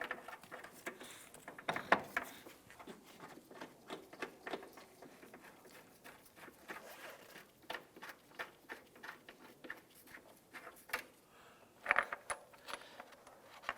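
Metallic clinks and ratcheting taps from installing the vertical engine mount bolt on a 2007-2012 Nissan Versa: irregular light tool clicks and rattles, fairly quiet and close, without talk.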